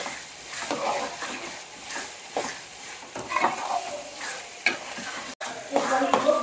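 Chickpeas cook in masala in a pot in a village kitchen, stirred with repeated scraping strokes over a continuous close sizzle, the spoon clattering against the pan at irregular intervals.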